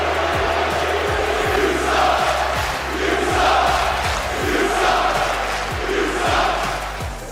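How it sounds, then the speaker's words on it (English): A large crowd at a Rocket League RLCS esports event cheers and roars continuously, loud and sustained, with rhythmic low thumps underneath. "I mean, dude, their crowd is kind of lit."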